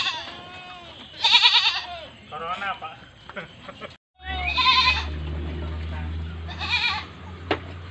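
Goats bleat loudly in a livestock pen, several nasal cries rising over people talking nearby, with a low background hum in the latter half.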